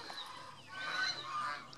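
Geese on a goose farm honk briefly and faintly, a couple of nasal calls over a soft background.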